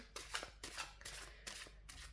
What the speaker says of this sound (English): I feel like I want to keep shuffling for some reason.